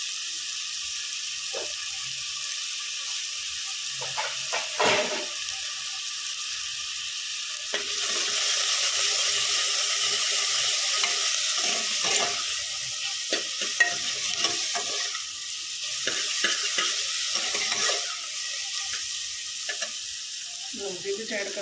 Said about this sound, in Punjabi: ਥੋੜਾ ਭੁੰਨਾਂਗੇ ਭੁੰਨ ਲਵਾਂਗੇ ਆਪਾਂ ਹਲਕੇ ਜਿਹੇ ਬਰਾਊਨ ਹੋ ਗਏ